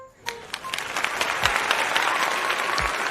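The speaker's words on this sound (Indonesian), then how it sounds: "ketika kita tepuk tangan, tangan kita menghasilkan bunyi atau suara seperti ini" Applause from a group rises after a sharp first clap and settles into a dense, steady patter of many hands clapping at close range, with no voices over it.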